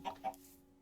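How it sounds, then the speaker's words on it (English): Chickens cluck twice in quick succession inside a house in the Minecraft video game, short game-sound clucks over a faint steady hum, then fading to quiet. "I want these chickens out of the house."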